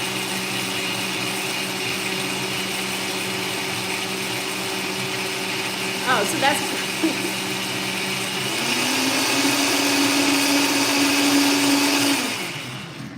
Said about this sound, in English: I have the blender. It's gonna be loud.